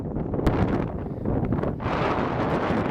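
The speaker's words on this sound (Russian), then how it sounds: "С этого момента начался постоянный ветер, который либо усиливался, либо ненадолго затихал." Strong gusty wind on the Konzhakovsky Kamen ridge in the Northern Urals buffets the microphone with a continuous loud roar, easing briefly before surging again.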